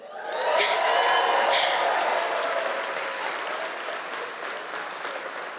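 A school celebration audience bursts into applause for a student speaker, swelling quickly, peaking around the first second or two, then tapering into a softer sustained clapping from a large crowd.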